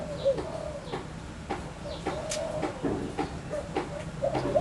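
Chickens cluck repeatedly in a village yard in rural Thailand. The calls come in short, uneven bursts over a steady outdoor background, with an occasional higher call cutting through.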